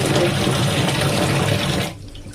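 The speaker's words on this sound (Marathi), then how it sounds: "आता इथे मी डाळ धुवून घेते पाणी" Running water splashes steadily as mixed dal is rinsed, a close, continuous rushing sound that cuts off near the end.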